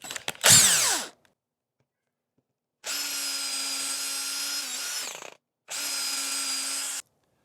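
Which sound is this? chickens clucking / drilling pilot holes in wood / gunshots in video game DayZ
drilling pilot holes in wood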